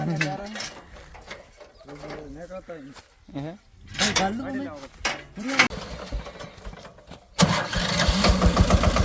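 Voices and bird calls give way to an Eicher 188 tractor's heavy engine turning over and catching, settling into a loud, rumbling idle near the microphone.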